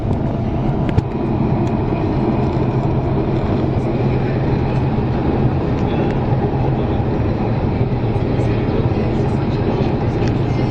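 A Montreal REM train on an evening ride gives a continuous loud, even rumble from inside the car, with occasional faint clicks and squeaks over the steady drone.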